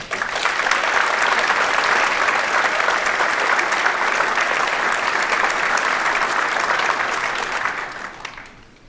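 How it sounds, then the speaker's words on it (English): An audience at a school concert band performance applauds loudly and steadily for several seconds, a thick wash of clapping that tapers off near the end. "Please give her a big round of applause."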